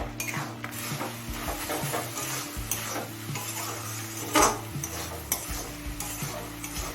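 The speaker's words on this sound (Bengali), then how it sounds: "এবার হাই ফ্লেমে জলটা শুকিয়ে আসা পর্যন্ত রান্না করে নেবো" Ivy gourd (kudri) stir-fried over a high flame in a pan, with a steady sizzle and repeated scraping and clinking of a metal spatula against the pan, close and continuous with no talking.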